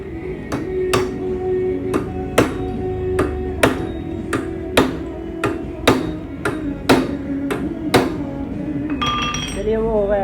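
A big nut on a Passion Pro motorcycle's clutch plate assembly is being tightened: roughly eighteen sharp metallic clinks and taps land at a steady, close rhythm over a low hum, ending with a brief rising whine.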